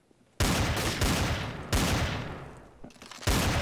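Gunfire in a Garry's Mod Trouble in Terrorist Town match comes in three loud close bursts of rapid shots, each fading into a decaying tail before the next begins.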